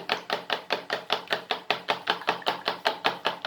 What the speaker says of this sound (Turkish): Şöyle 3 yemek kaşığı kadar sıvı yağ ilave ediyorum. Güzelce çırpıyorum sosumu.